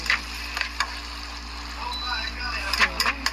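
Virginia sweet ham fries in rendered bacon fat for carbonara, a steady soft sizzle with scattered sharp crackles and pops, while someone talks over the cooking.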